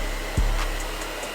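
Hair dryer blowing hot air onto Glock handgun grips during a DIY grip upgrade, a steady close airy whoosh with a brief louder low thump near the start, no talking.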